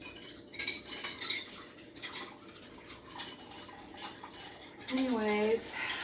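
Dishes and a container clatter at a kitchen sink during a quick rinse, with scattered clinks and water-like hiss throughout and a brighter ringing knock near the end.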